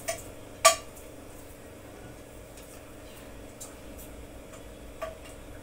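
A knife taps sharply on a board while cutting beef fat into small pieces, a few isolated clicks spread over several quiet seconds against a low steady background hum.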